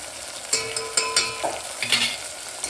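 Chopped tomato and onion with curry leaves and asafoetida sizzle in a hot pan, with several sharp scraping stirs of a spoon over the steady frying hiss.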